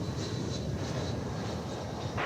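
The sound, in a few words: American Airlines Airbus A319 arriving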